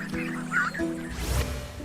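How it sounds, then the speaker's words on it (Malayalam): Cartoon ducks on a river quack a few times in short bursts, fairly close and clear, with no talking over them. "ആ നദിയിൽ ചില താറാവുകൾ പോയിക്കൊണ്ടിരുന്നു."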